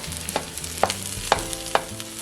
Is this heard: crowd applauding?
no